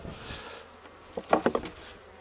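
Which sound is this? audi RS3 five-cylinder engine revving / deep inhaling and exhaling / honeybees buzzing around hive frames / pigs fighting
honeybees buzzing around hive frames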